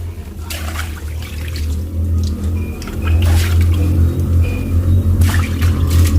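Water poured over a car battery being rinsed, with a steady low rumble and pouring wash that grows louder halfway through and a few brief splashy bursts.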